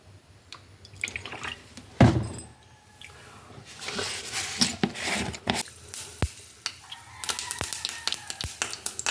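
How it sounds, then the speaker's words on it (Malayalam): Mustard seeds crackling in hot oil while tempering a pumpkin and bean curry, giving scattered sharp pops and snaps that grow busier toward the end, fairly close, with stirring sounds between them and no talking. "കടുക് പൊട്ടി വരുന്നുണ്ട്"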